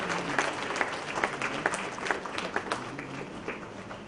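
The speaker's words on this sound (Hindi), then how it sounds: "तालियों के साथ हमारे अतिथिगण का अभिनंदन किया जाए" An audience at the inaugural session of a health summit in Rajasthan breaks into steady, sustained applause, a continuous patter of many hands heard from a moderate distance.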